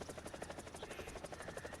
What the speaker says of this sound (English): for this helicopter is very, very fast to get off the ground